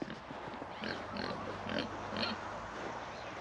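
Idaho pasture pigs grazing in a field give soft, repeated grunts at moderate distance, a low rumbling series of snorts over steady outdoor background noise.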